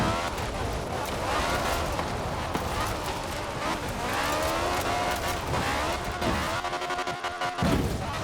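A BAC Mono race car, tuned for roads, drives in Forza Horizon 4, its engine revving and shifting through rising and falling pitches with tyre noise, while someone talks over it throughout.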